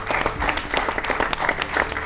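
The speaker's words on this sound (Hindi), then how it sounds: "उसके लिए तालियां बजनी चाहिए।" A studio audience at a televised Olympic quiz show claps for a team, with brisk, close applause of many hands that keeps up steadily.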